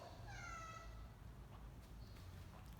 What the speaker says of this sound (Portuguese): as gatas se enxergaram na janela, então uma miando para outra